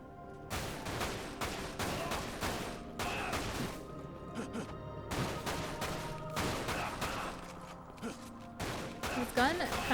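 Gunfire in the video game Dirge of Cerberus, heard as dense, loud bursts of rapid shots in several volleys separated by short gaps, with game sounds mixed in.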